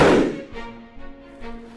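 A projectile is test-fired from a universal receiver at a military weapons factory's test range. A single sharp, loud report opens the clip and fades into a ringing tail, with a few fainter thuds after it.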